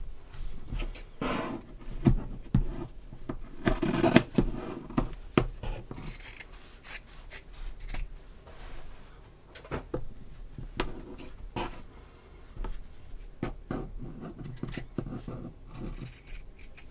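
Scissors snip through t-shirt fabric, cutting out a drawn circle in a steady series of close, crisp crunching cuts with brief pauses and rustling cloth, no talking.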